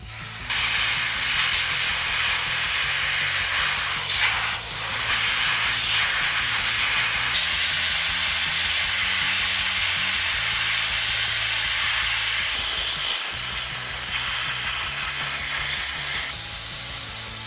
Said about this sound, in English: now I'm hitting it with some compressed air and turning it at the same time to really make sure it doesn't heat up that motor shaft bearing